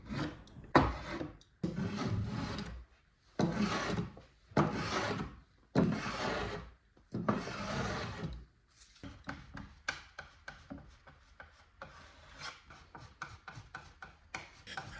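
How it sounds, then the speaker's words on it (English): A hand plane rasps along a pine strip in a series of rhythmic strokes, followed by quicker, lighter scraping passes. "After drying, I plane the strip to the right size."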